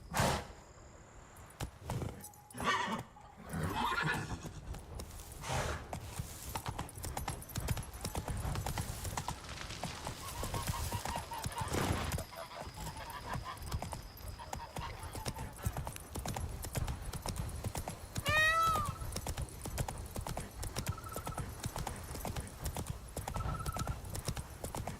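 Roach, the horse in the Witcher 3 video game, gallops with a steady, close clip-clop of hooves throughout, joined by a brief neigh partway through.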